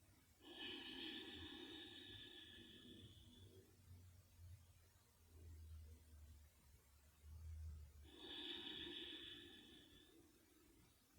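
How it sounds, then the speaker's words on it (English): Shitali pranayama breathing: two long, forceful breaths drawn in through a folded tongue and let out through the nose, each lasting about three seconds, separated by a quiet pause with faint low rumble. "folding your tongue from both the sides, inhaling and then exhaling through your nose"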